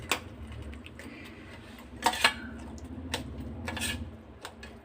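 A spoon stirs raita of curd, green chilli, coriander and salt in a bowl, giving soft, irregular clinks and scrapes with a few sharper taps, fairly quiet and close, with no voices.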